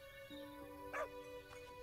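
A dog in the Everdream Valley video game gives a short, soft yip or bark over a steady musical background, faint and brief.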